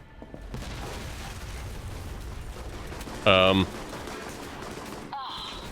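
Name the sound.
explosions and gunfire in a video game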